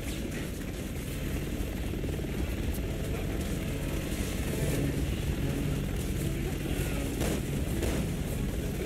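Aircraft engines in Resident Evil 6 drone with a steady, loud, continuous roar that holds throughout, with brief bursts of heavier noise near the end.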